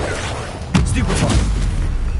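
A Stupefy spell cast in Hogwarts Legacy lands as a sudden loud boom less than a second in, followed by a rumbling, bursting tail that fades over the next second.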